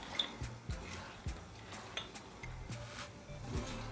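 Chicken Manchurian being stirred in a pan, with soft scraping and clinking of a utensil against the metal in irregular strokes, fairly quiet and close, with no talking.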